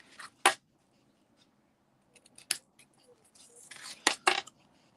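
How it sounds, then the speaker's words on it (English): Scissors snip through a piece of card in several sharp, close cuts, with pauses between single snips and a quicker cluster of cuts near the end. "I'm then just going to trim this bit of card"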